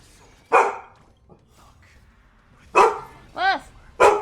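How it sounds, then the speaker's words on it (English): Dog barking in the Honkai: Star Rail video game: several sharp barks spread over a few seconds, one a rising-falling whine-like yip, clear and close with quiet gaps between. "Bark. What are you barking for?"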